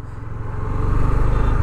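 A 2023 Honda CB300F 300cc motorcycle engine running in first gear, heard close up as a loud, low throbbing rumble whose pulsing firing rhythm grows slightly stronger toward the end, with no talk over it.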